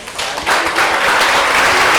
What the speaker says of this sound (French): Est-ce qu'on est capable de mettre debout pour nous applaudir les seigneurs?